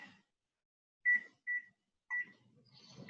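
An electronic timer beeps in short, sharp tones, a single beep followed by two more spaced apart, fairly close and clear, with faint rustling in between.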